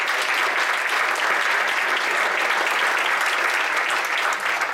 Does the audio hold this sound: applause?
yes